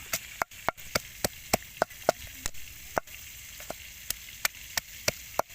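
A knife chops garlic for chili sauce on a board, a steady run of sharp knocks about two per second, close and clear over a quiet background hiss.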